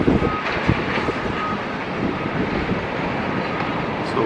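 Strong wind buffets the microphone at the Las Vegas Athletics stadium construction site, a steady, loud broadband roar with no clear gusts or pauses.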